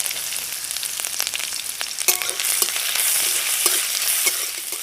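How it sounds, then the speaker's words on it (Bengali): Ginger, garlic, green chilli and whole cumin sizzling in hot oil in a wok, a steady loud crackling fry with a few stirring scrapes, close up and without speech. "আদা রসুনটা হালকা ভাজা হয়ে গেছে।"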